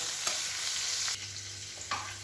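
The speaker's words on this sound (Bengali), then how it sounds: "এইগুলো হচ্ছে বরবটি ভাজা," Green beans (barbati) fry in a home kitchen pan with a steady, close hiss of sizzling oil, broken by a few sharp scrapes and clinks of stirring.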